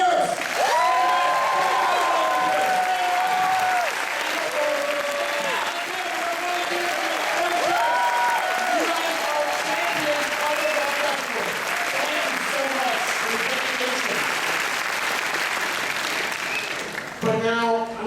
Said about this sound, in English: let's give a big, honest, sincere round of applause for our fabulous volunteers